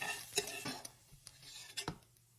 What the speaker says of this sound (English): So now, just gonna remove it from the pan. And then just using a slotted spoon here